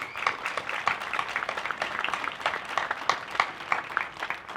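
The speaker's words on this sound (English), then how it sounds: "I believe they deserve a round of applause" A crowd at the Wahkiakum High School 2022 graduation ceremony claps, its applause rising and falling unevenly with distinct sharp hand claps standing out in a lively, continuous burst and no speech.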